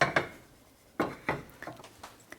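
Metal cooking pans are set down on a kitchen surface, several separate clanks and knocks spaced unevenly, fairly close and quiet, with no talking.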